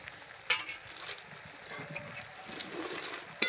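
Chicken posto with garam masala frying and being stirred in a pan, a soft continuous sizzle with light scraping and a couple of sharp utensil clinks, quiet and close, no voices.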